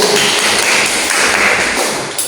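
Classroom applause for a student group after their presentation on a butterfly life cycle, a dense, steady patter of many hands clapping close by for about two seconds.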